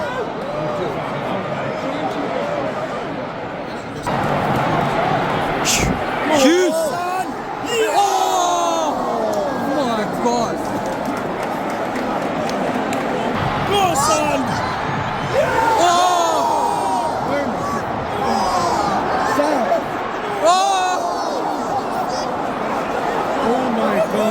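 Luton fans cheering and chanting in the away end at the Tottenham Hotspur stadium during a match, a broad crowd roar with whoops and shouts rising and falling, heard a little distant beneath close conversation.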